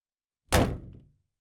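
A wooden door closes in an audiobook scene with a single solid thunk, loud and close, fading quickly.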